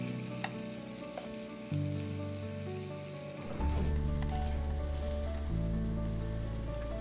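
Meat for Japanese omurice sizzles steadily in a hot pan while being stir-fried, a dense close frying hiss that grows louder and fuller partway through, with no talking.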